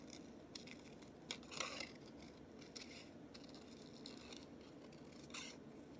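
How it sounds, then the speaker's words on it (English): Scissors snip paper around a cut-out witch picture for a Halloween journal, a quiet series of short crisp cuts and rustles over a faint steady background hiss. "I'm going to cut a little bit more of the white off around her"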